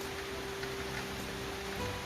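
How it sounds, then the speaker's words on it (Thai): Light rain beginning to fall on the roof tiles behind a house beside a backyard kitchen garden, a steady soft patter of drops with no one speaking. "ฝนจ๋าตกก่อนนะคะ เห็นไหมคะในเสียงฝนจ๋านะคะ"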